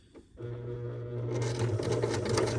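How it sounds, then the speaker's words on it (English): A sewing machine stitching a lapped seam, starting up after a short pause into a steady close mechanical hum and whir that runs to the end, with no talking. "I'm going to back stitch before I get too far."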